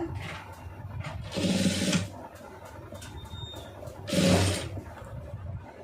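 A sewing machine stitches a round neckline on fabric in two short whirring bursts, close and steady, separated by a quieter room hum and light handling noises.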